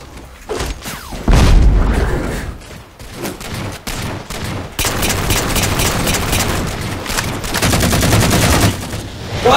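Halo 4 video game gunfire during a cops-and-robbers multiplayer match: loud rapid bursts and heavy booming shots in clustered volleys, with brief quieter gaps between them.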